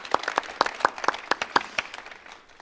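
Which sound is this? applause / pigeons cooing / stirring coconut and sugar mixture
applause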